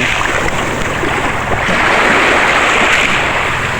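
Ocean waves wash onto a shoreline, a loud broad roar of surf with gusting wind buffeting the microphone, swelling midway and continuing without speech.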